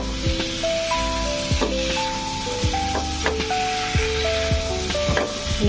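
Vegetables frying in a pan for a Bengali katla fish curry, stirred after garam masala powder and sugar are added: a steady close sizzle with repeated scraping stirs and clinks of the spoon against the pan, and no talk.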